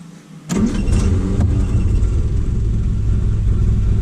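A 1960 Triumph TR3 engine cranks on the starter button and catches at once, settling into a loud, steady idle close by.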